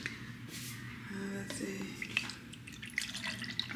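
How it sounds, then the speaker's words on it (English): Colonoscopy prep liquid is poured into a cup, a close, faint trickle with small drips and splashes, partly under a voice speaking nearby. "Pour this in my cup."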